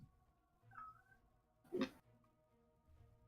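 A pet cat indoors gives a short, faint meow, followed by a louder broadband rustle or thump in a quiet room with a low background hum.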